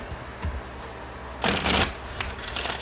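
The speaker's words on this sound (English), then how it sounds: "I'm going to shuffle one more time." A deck of tarot cards being shuffled by hand, a quiet pause giving way to a dense, crisp riffling burst up close that continues in softer flutters to the end.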